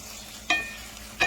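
Vegetables sauteing in a pan, a soft continuous sizzle broken by two sharp stirring scrapes about half a second apart.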